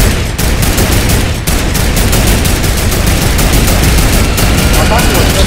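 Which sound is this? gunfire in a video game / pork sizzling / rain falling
gunfire in a video game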